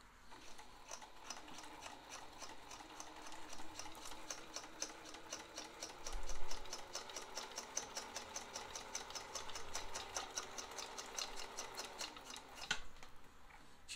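A serviced Pfaff 1222E sewing machine runs a straight stitch in a steady, rapid rhythmic patter close by, briefly easing off before finishing, with no talking.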